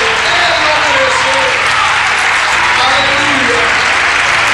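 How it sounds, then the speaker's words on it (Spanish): A church congregation claps loudly and continuously throughout, with a preacher's voice carrying over the dense wash of hands. "Denle un aplauso al Señor con todo su corazón."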